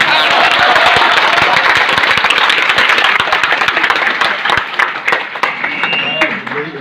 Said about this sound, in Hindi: ताली ऐसी बजा दो कि गुरुजियों को जोश आ जाए